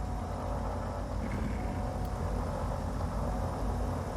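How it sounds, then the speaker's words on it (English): Right engine of a DA42 twin-engine aircraft in Microsoft Flight Simulator running up after a start, a steady, loud, low droning engine rumble that holds constant throughout. "we'll start engine 2, or right engine"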